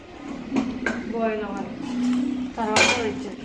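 Ragi mudda with rice being stirred in a pot on a stove, giving close, intermittent scraping and clinking of a utensil against the pot, with someone talking over it.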